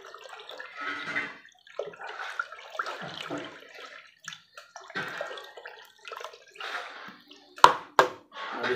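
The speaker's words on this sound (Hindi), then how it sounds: "अभी फ़िलहाल हम इसको पाइप से मिक्स करेंगे" Liquid detergent being stirred with a pipe, giving irregular close sloshing and swishing water sounds in short bursts, with a couple of sharp knocks near the end and no talking.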